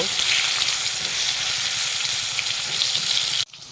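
Turmeric and tomato sautéing in a pan for niramish alur dom: a loud, continuous, close sizzle that cuts off abruptly near the end, leaving a quieter hiss.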